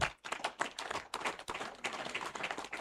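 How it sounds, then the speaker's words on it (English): An audience at an African human resource summit claps and applauds a panel, a dense burst of many hands clapping at moderate distance in a hall. "A clap for my panel."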